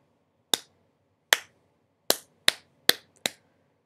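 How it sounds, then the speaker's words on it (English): Hands clap a rhythm of six sharp, close claps in a quiet room, the first three evenly spaced and slower, the last three quicker, with a slight lag before the final clap. "I'm going to clap one of these rhythms"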